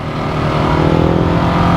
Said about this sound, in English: Here comes the traffic.